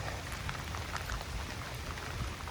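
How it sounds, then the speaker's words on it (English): Steady, windy rain falls outdoors on a neighborhood street, a dense even patter of drops on surfaces with no voices. "It's pretty windy, it's pretty rainy."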